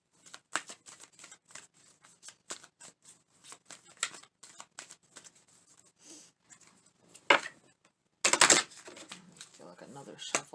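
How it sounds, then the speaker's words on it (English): Tarot cards shuffled in repeated crisp riffling bursts, close and moderately loud, with a denser burst of rapid flutter near the end and soft voice heard between. "Another shuffle is needed."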